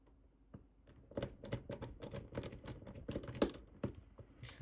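A screw being driven by hand into the plastic case of an IKEA Grillplats smart plug, a quick run of close, dry ticking and clicking as the screwdriver turns, fairly faint.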